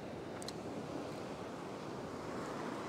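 Surf breaks along a beach used for fishing, a constant broad wash of waves with some wind rumble on the microphone, fairly faint and with no voices.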